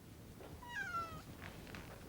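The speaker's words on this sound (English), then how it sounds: "I had a distinct impression I heard a cat mewing, either in this room or very close at hand" A single cat meows once, a faint drawn-out mew in a quiet indoor room, with no talking.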